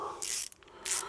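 A ratchet tightens the screws on the radiator fan of a first-generation Renault Twingo. Two short, close bursts of rasping clicks are separated by a brief pause with a couple of faint ticks.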